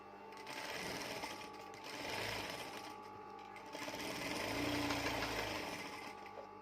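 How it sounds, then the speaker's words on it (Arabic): A sewing machine runs in steady motorized stitching bursts as a fabric border is sewn on a bedsheet, a close, even whirring hum that swells and eases a few times, with no talking. "وتبداي تخيطي الفريزيتش اهو بالطريقه دي اهو"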